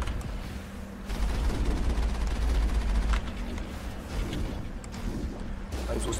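Small cannons and gunfire in the sci-fi video game Mass Effect, a dense run of repeated shots rolling on for several seconds at steady loudness, with low rumbling underneath and no voices.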